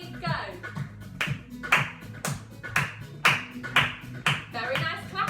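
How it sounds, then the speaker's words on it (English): Young children aged 2 to 5 in a creative dance class clap their hands in a steady, regular rhythm, a series of sharp, close claps roughly every half second with music or voices underneath. "can we start by clapping?"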